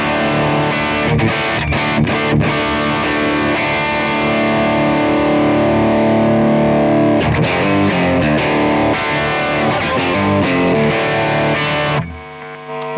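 Electric guitar played through a Kemper amp on a heavily overdriven, compressed setting, with intensity turned up high: thick sustained distorted chords ring out loudly and continuously, with a few choppy breaks, before cutting off near the end.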